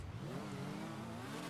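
A BMW S1000RR motorcycle in GTA V revving hard, a loud, continuous engine drone that climbs and wavers in pitch without a break.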